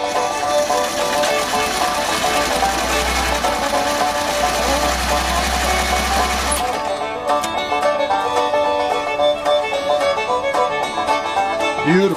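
A Singer 185 sewing machine stitching slippery fabric under the presser foot, a steady mechanical whir that runs continuously, then gives way to lighter rhythmic ticking; no clear talk.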